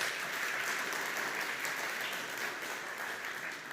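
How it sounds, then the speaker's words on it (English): An audience at an AI demo day event applauds steadily, a dense, even wash of clapping that lasts throughout and fades slightly at the end. "Again, a big applause for Codify."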